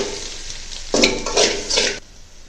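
A spoon stirs an egg noodle mixture with added salt in a pan, giving a short burst of scraping and clinking strokes after a quiet sizzling background, then settling back.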